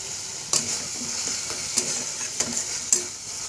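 Gravy for a chickpea and cabbage curry is sautéed in a pan, a soft continuous sizzle broken by several sharp scrapes and clinks of a spoon stirring against the pan.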